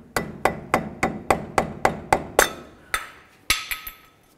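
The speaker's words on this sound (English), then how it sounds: "I'm just going to use this pry bar" Metal pry bar striking and levering against the front wheel hub cap of a 1999-07 Chevy Silverado during hub bearing replacement, giving about a dozen sharp, ringing metallic taps in a steady rhythm, close and loud, with a few quicker clinks at the end.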